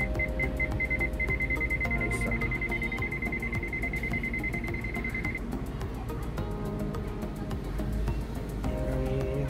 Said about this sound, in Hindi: तो ये बीप साउंड भी आप सुन सकते हैं